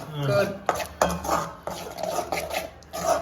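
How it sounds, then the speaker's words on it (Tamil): Curd is stirred into a sautéed mixture in a pan, with a spoon clanking and scraping against the metal in several sharp knocks and shuffling strokes, close and fairly loud. "இந்த கேர்டு சேர்த்துட்டு ஒரு ரெண்டு நிமிஷம் வந்து வதக்கி விட்டுணும்"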